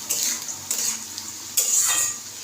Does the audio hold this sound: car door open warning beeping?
no